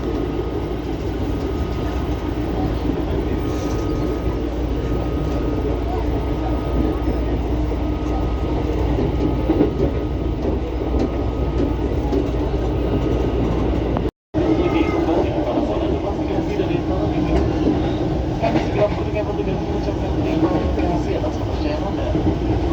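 Inside a KRL commuter electric train on the move, steady rumble and rail noise continue throughout with faint clatter, close and constant, broken by one brief dropout partway through, while muffled voices speak in the carriage.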